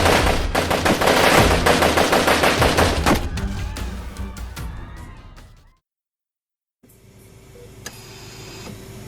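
Rapid gunfire shooting at someone, a loud burst of closely spaced shots that thins out into scattered cracks, cuts to brief silence, then returns as quieter background with a few faint clicks.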